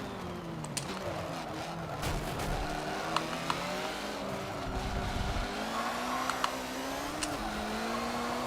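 Ferrari race car in the Forza 7 racing game, its engine droning steadily with rising and falling pitch through gear changes, with other cars and brief tire noises mixed in.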